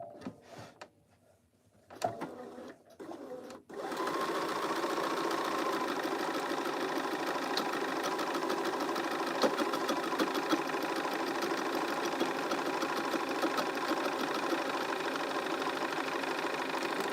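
A sewing machine runs steadily through a test piece sewn with Gutermann thread at a 1/4 inch seam allowance, starting after a few short bumps and then humming with a continuous, even whir up close for over ten seconds.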